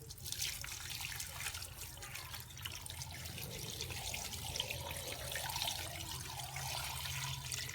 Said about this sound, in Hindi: और अब हम इसमें डाल देंगे 2 लीटर पानी।